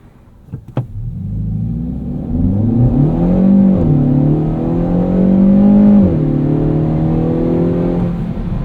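A 2024 Kia Forte GT with a dual-clutch transmission launches hard in sport mode, its engine note climbing steadily with a gear shift midway, then pulling on loud and close inside the cabin, with no talking.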